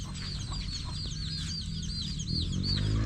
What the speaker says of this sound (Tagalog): Dami natin sisiw.